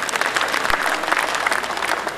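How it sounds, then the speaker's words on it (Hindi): Audience applause at a Hindi comedy and satire poetry gathering, a dense, steady burst of many hands clapping together that holds evenly throughout. "बात सही है तो सर आप ताली बजाएं"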